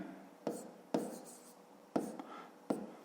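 Pen strokes on paper while working a fifth-grade math exercise about potato harvest in centners: a few sharp scratchy taps spaced apart with soft scribbling between, close and quiet.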